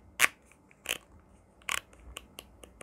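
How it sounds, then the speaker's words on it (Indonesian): Ugreen headphone headband being adjusted for length, a few sharp plastic clicks with short gaps, close and alone, followed by fainter smaller clicks. "di sini bisa di adjust untuk panjang dari headband-nya"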